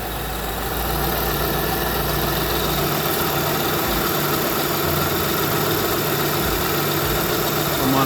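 A Lexus ES330 engine idles steadily after a power steering belt and alternator belt replacement, a continuous close, even hum with no squeal, running unbroken throughout.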